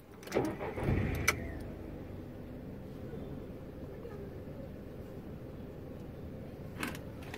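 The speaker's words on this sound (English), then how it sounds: "So let me just start the car and see what the readings are." A small 51 kW passenger car's engine cranks and catches near the start, then settles into a steady low idle, with a faint click at the beginning and another near the end.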